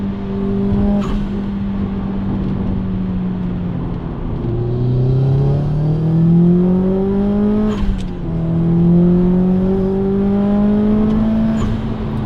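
A Subaru Impreza hatchback accelerates hard, its engine note climbing through gears with a rising turbo whine and spool, loud and close, a brief dip and shift near the middle before it pulls again.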